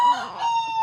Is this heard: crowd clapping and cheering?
no